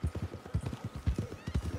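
In Red Dead Redemption 2, a large horse walks with a steady, close clip-clop of hooves on firm ground, the rhythmic footfalls loud and even over a faint background.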